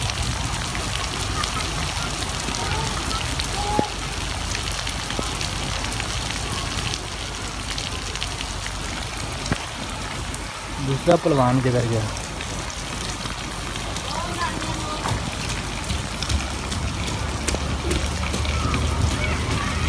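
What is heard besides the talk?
heavy rain falling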